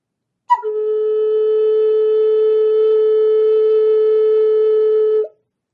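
A single sustained Native American flute note, fingers off the holes, starts with a brief breathy chirp, then holds steady and pure for about five seconds before cutting off.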